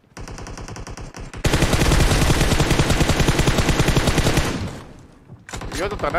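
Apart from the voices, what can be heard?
gunfire in video game BGMI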